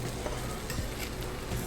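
Wagyu rice crackles in a stone hot pot, a close and continuous sizzle with faint stirring scrapes and no voices over it.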